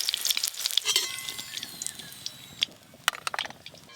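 Potatoes and pointed gourd frying in mustard oil give a close, steady sizzle broken by sharp spatters and brief stirring scrapes, with no talk.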